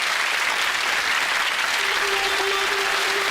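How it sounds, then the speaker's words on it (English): Studio audience applause on a BBC game show, loud, even clapping from the crowd that continues throughout. "applause"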